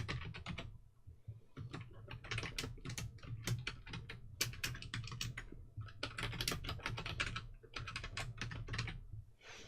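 Rapid, steady typing on a computer keyboard, dense bursts of close key clicks with brief pauses between runs, quiet and alone without talk.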